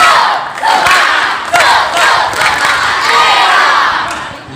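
Male students at an Islamic boarding school ceremony perform a loud group clapping chant with shouted cries, a close, dense crowd roar that swells and holds for several seconds.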